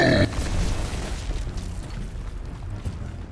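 A frag grenade explodes in the Gears of War video game. A sharp burst at the very start is followed by a rumbling, gradually fading aftermath.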